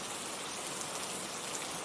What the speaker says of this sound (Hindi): ठंड के साथ साथ बारिश भी तेज होती जा रही थी।